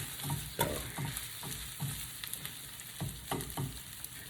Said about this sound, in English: Just stir, make sure we're getting all the oil on there and all the butter.